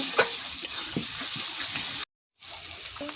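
Spice masala sizzles and fries in hot oil for a Bengali rui fish kalia, with steady crackling and occasional stirring scrapes, cut by a short silent gap before the frying resumes.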